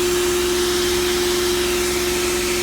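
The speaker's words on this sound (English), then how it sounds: "just to kind of sandblast that surface dirt, old paint" A loud, steady roar of a sandblaster running continuously, stripping dirt and old paint from a vintage office chair, a constant hissing blast with a low hum underneath, close and unbroken.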